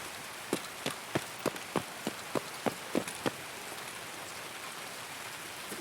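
Rain in a video game, heard as a steady soft hiss with a run of about ten sharp, evenly spaced droplet-like taps in the first half, then the hiss continuing alone.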